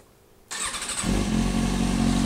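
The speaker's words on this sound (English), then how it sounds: "I guess we gotta get the bike running to get the headlight on, so let's try that real quick." A 2005 Kawasaki Ninja ZX6R (ZX636) sport bike cranks briefly with the starter, then fires up and settles into a loud, steady idle close to the listener, with no talking.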